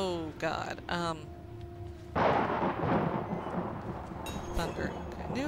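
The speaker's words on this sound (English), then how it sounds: "Thunder." A deep rumble of thunder rolls in a horror video game's dark asylum setting, surging and lingering for several seconds after brief tonal game sounds, with a muffled voice faintly present.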